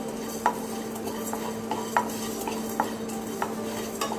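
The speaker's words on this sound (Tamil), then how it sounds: "வறுபட்ட வாசனை வர்ற வரைக்கும் இதை நல்லா வறுத்துக்குவோம்." Spices dry-roasting in a pan over medium heat for mutton curry are stirred, giving periodic soft scrapes of the spoon over a steady low sizzle-like hiss.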